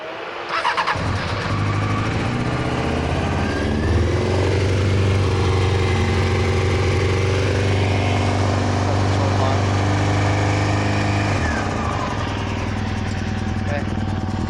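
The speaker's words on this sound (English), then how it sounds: "Start the bike. Haven't started it in about a week" A motorcycle engine cranks and catches after sitting unused for about a week, then settles into a steady, loud, close idle with a low throbbing drone that holds for the rest of the clip before easing slightly near the end.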